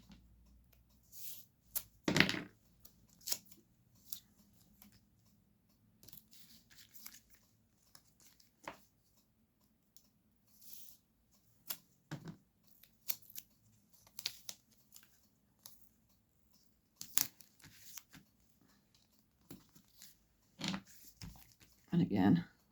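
Adhesive tape is torn from its backing and pressed down onto a card during papercraft, heard as scattered short crackly tearing and rubbing bursts over about twenty seconds, with quiet handling noises in between.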